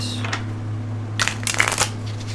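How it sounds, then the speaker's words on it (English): Tarot cards riffle and shuffle in a few quick crisp bursts, close up, over a low steady electrical hum. "I'm going to shuffle here just a little bit."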